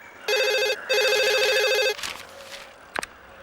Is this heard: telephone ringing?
yes